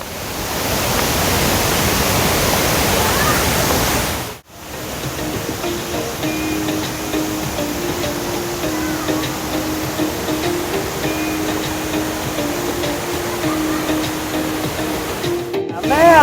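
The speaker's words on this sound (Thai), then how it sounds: "เป็นน้ำตกที่มีชื่อเสียงที่สุดของจังหวัดเชียงใหม่" Steady, loud rushing roar of Mae Klang Waterfall in Doi Inthanon National Park, Chiang Mai, Thailand, fills the whole stretch, broadband and continuous, with a brief dip partway through.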